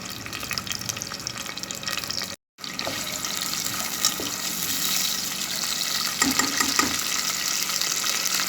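Onion, garlic and garam masala frying in hot oil in a home kitchen, a steady continuous sizzle with a brief dropout early on, louder crackling spells near the end, no talking.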